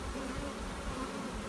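Honey bees buzz steadily around an open, recovering beehive with a deep box partly full of honey, a dense close drone with no pauses.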